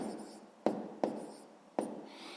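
Pen writing numbers for a multiplication sum on paper, three short sharp taps and strokes over a soft scratching, close and quiet, no talk.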